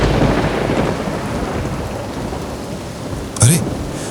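Steady heavy rain pours on surfaces throughout, with a sharp crack of thunder near the end breaking over the downpour during a monsoon night storm by a graveyard.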